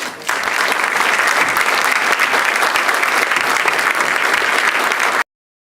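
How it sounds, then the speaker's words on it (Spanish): A standing audience applauds at an anniversary event of the Quintana Roo electoral tribunal: dense, loud, sustained clapping from a large crowd that runs steadily for about five seconds, then cuts off abruptly into silence. "Les pido por favor que se pongan de pie para brindarles un aplauso"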